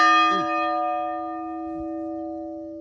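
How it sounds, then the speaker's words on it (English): An old church bell beside a graveyard, dated 1892, rings out with one loud strike and then a long, slowly fading metallic hum, with faint rustling underneath. "I just rang the bell."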